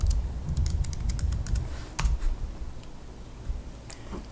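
Keys clatter on a computer keyboard as a password is typed, a quick burst of close, crisp clicks in the first half, then a few scattered taps over a low background rumble.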